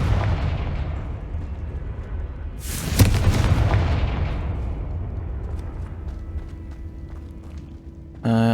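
A Confringo spell blast in Hogwarts Legacy: one sharp explosive burst around the middle, set against continuous rumbling game ambience, followed by a steady hum and a sudden louder sound at the very end.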